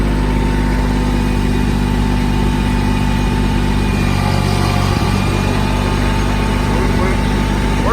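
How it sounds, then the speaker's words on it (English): A Porsche 944 engine drones steadily and loudly while the car shifts into a higher gear on the road, a constant low rumble with a busy broadband roar and no pause across the whole stretch. "Let's throw this sucker into a higher gear here."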